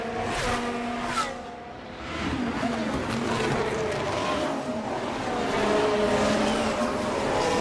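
Race cars streaming past on a circuit in F1 Manager, a continuous layered engine drone that swells and fades as cars go by, with a voice talking over it.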